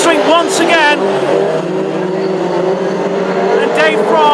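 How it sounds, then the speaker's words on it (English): Ford Mark II Escort classic hot rods race down the home straight at Northampton, loud engines roaring and revving close by as cars pass, with a commentator's voice running over the top. "Mark II Escorts thundering out the home straight once again."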